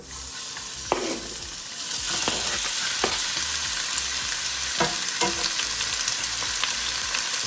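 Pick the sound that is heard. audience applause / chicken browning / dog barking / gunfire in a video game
chicken browning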